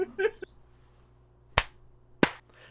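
A brief stretch of talk in a quiet room, then two sharp, close hand claps well apart, signaling the end of a gaming podcast episode.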